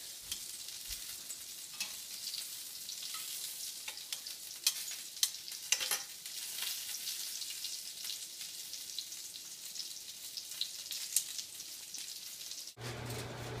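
Lamb chops sizzle and crackle in a hot pan, a steady bright frying hiss with scattered pops and tong clicks over the whole stretch, ending in a brief shift of background noise.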